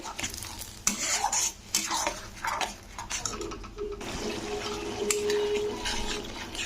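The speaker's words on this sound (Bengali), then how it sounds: "টমেটো পেস্টটা দিয়ে দু চার মিনিট নাড়তে হবে" Tomato paste being stirred in a pan for a matar paneer curry, with a utensil scraping and clinking against the metal in uneven strokes and a faint sizzle underneath, close and moderately loud.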